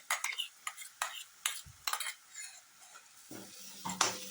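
A spoon scrapes and stirs a masala filling for matar karanji in a pan in short repeated strokes, with light clinks of metal and a soft sizzle underneath.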